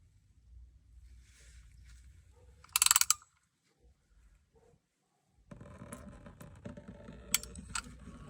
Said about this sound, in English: And now I'm going to remove the oil filter.